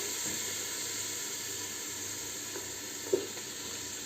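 Fresh tomatoes hit a hot pan for a spicy, warming Algerian berkoukes soup, giving a steady close sizzle and hiss with one brief clink near the end, no talking.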